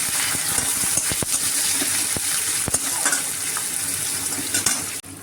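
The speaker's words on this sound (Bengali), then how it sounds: "পেঁয়াজটাও দিয়ে দিচ্ছি, দিয়ে একটু নাড়াচাড়া করে নেব" Onion and garlic frying in oil in a pan while being stirred, with steady close sizzling broken by scraping clinks of the utensil against the pan.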